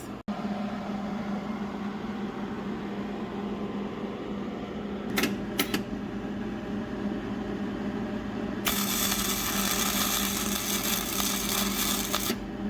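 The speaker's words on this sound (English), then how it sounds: "throw my welding helmet on, and we're gonna do our first test pass" A Hobart Handler 140 wire welder runs a test pass in a garage, a steady close crackling buzz starting partway through and holding to the end, after a constant hum and two brief sharp clicks.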